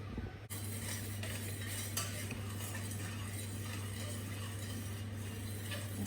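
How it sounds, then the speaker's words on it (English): Melting butter being stirred in a pot on a cooktop, a soft continuous scraping and swishing over a steady low hum, close and fairly quiet with no voices. "Give it a little stir"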